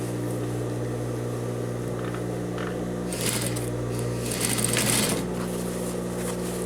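A sewing machine stitches the seam of a men's vest with a steady mechanical hum, broken by short bursts of faster rattling stitching and fabric handling at close range.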